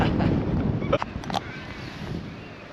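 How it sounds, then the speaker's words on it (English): Wind on Mount Kosciuszko buffets the microphone in low, blustery rumbles, with a few faint clicks and rustles partway through. "It's a little bit windy."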